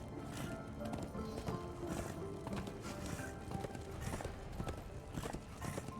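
Horse hooves gallop in a steady clip-clop rhythm through the Darksiders 2 video game, mixed with continuous game ambience and music, fairly loud and dense throughout.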